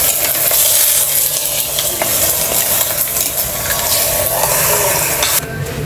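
Steady loud sizzling of pork sautéing in a pot, with scraping and stirring sounds, continuous and close, ending abruptly.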